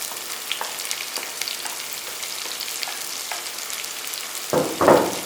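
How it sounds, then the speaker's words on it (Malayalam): Chopped onions for a fish curry sauté in a pan with a steady soft sizzle, small scattered crackles, and two louder bursts near the end as the pan is stirred or more is added. "സവാള ഇട്ടിട്ട് നല്ലോണം ഒന്ന് വഴറ്റിയെടുക്കണം നമുക്ക്"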